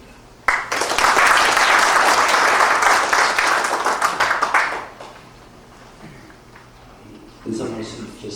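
Audience applause at a school event welcoming alumni who are public officials, a dense burst of many clapping hands that rises sharply, holds for about four seconds, then fades to room murmur and voices.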